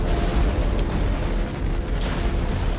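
Explosions in the video game Elden Ring make a heavy, continuous rumbling roar with deep booming bursts, loud and dense throughout.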